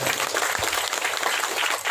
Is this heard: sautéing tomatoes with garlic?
no